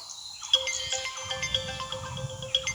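A mobile phone ringtone starts suddenly and plays a clear, repeating electronic melody with regular chiming beats, close and fairly loud.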